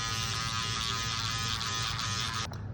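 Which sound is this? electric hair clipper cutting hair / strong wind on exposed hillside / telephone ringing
electric hair clipper cutting hair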